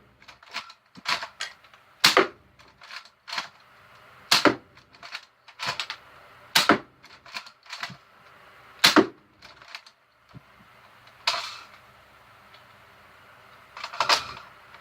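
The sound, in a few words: Dart Zone Eagle foam dart blaster firing yellow darts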